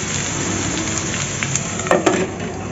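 Jute leaf fritters (pat shaker bora) fry in a covered pan with a continuous close crackling sizzle, broken by a couple of brief metallic clinks near the end.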